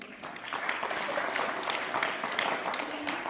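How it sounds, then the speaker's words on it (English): Steady, dense applause from an audience at an English speech competition held at a school, moderately loud and continuous throughout with no distinct voices. "let's give a thunderous round of applause to all our HKG students"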